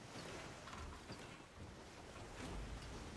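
A sailing ship cruises over ocean waves in the pirate video game Skull and Bones, a steady wash of water and wind rushing past without a break.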